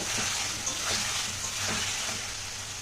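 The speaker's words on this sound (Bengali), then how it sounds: "দিয়ে দেবো ডিমগুলো। তো হালকা করে একটু নাড়িয়ে দেব।" Eggs are added to cooked-down spice masala for an egg curry and gently stirred in a pan. A continuous close sizzle carries soft, irregular stirring scrapes.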